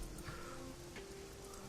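Rain falls steadily in a Hong Kong street scene of the video game Shadowrun: Hong Kong, a faint continuous hiss with soft scattered patter and a low ambient hum beneath.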